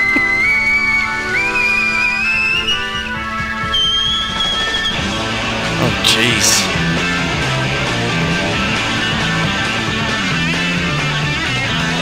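A shrill whistled melody from a live 1973 rock performance, with high sliding and held notes over the full band before the instruments take over.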